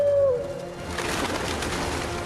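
Cartoon pigeons cooing in Paris, a short soft burble of bird calls at the start followed by a low fluttery murmur, with no talking.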